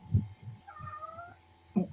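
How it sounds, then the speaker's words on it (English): A cat meows once in a clear, drawn-out tone, framed by a few soft low thumps, nearby and without speech. "I hear a kitty."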